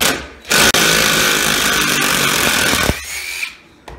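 A loud, close Rockwell or Dewalt power tool roars almost continuously for several seconds while removing a bolt, with a brief dip, a few sharp squeals and a dying rundown at the end.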